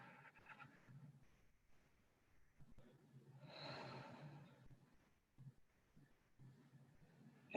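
Slow, deep breaths drawn in and released during a guided healing meditation, soft and close with one longer, fuller exhale in the middle, faint and calm throughout.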